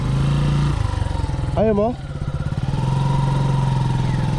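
A motorcycle engine drones steadily at close range while its wheel slips on sandy ground, with a brief change in pitch midway and a short spoken question over the engine.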